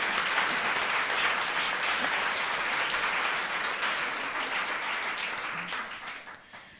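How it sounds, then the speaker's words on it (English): An audience at a talk on work, love and feminism gives general applause welcoming Nakia: a steady roomful of clapping, fairly loud and even, gradually tapering off toward the end. "They're just getting general applause."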